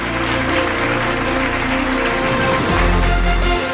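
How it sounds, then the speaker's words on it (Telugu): An audience at a stage singing event applauds a woman invited up to the stage, a dense, loud and continuous clapping that holds steady for several seconds. "మేడంకి ఒకసారి గట్టిగా చప్పట్లు."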